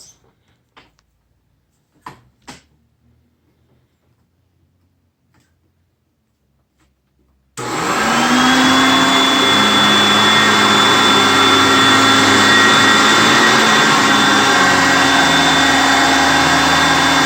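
A Hoover Concept One vacuum cleaner picking up pancake mix: after a few quiet clicks and taps, the motor starts abruptly and runs loud and steady with a whining drone for about ten seconds.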